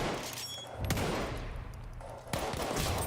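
Close bursts of gunfire in Battlefield 1 on the Lupkow Pass map, sharp cracks with a heavy report near the start and another loud shot later, over a busy battlefield background.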